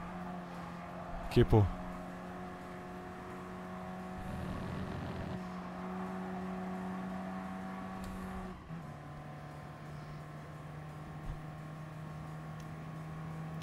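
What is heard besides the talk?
race car driving in video game GT Sport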